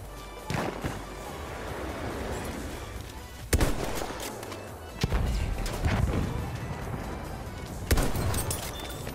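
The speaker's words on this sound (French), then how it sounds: "J'entends du tir à côté" Gunfire in Battlefield 1 hardcore mode, heard as a steady battle rumble punctuated by several loud sharp shots and blasts at irregular intervals, some close and some more distant.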